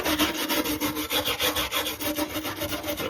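Rhythmic rasping strokes of abrasive cleaning on the metal bulkhead of a 1985 Land Rover Defender 90, steady back-and-forth scraping close up with no talking.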